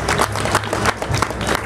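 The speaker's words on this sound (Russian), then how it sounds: "понравилось. Аплодисменты," Audience applause at a Saint George Tournament 2021 foot combat event between armoured knights, steady clapping from a crowd that runs unbroken through the whole short stretch.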